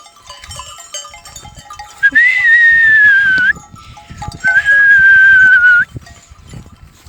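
A sheep gives two loud, drawn-out bleats close by, each about a second and a half long and separated by a short pause.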